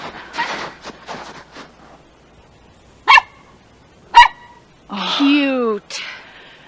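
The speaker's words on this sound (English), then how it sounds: "they have a mop dog named Tiger" A small mop dog named Tiger barks in a few sharp, separate yips with a whiny yelp after them, heard close and loud after some quiet talking at the start.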